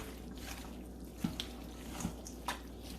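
A few soft, wet squishing sounds, spaced out and quiet, as chicken is mixed and coated in thick jerk sauce, with faint background hiss.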